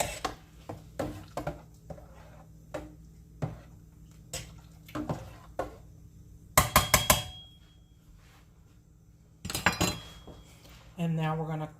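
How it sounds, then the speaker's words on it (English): A spoon scrapes and clinks around a pot of beef vegetable soup with diced tomatoes, a series of short metallic taps and stirs, fairly close and moderate in level, with brief gaps of near silence between bursts. "Give that a quick stir."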